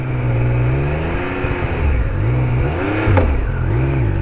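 A 2021 Triumph Speed Triple RS motorcycle engine revs high and steady on a ride, pitch rising and falling with throttle changes, loud and close with wind rush and no talk.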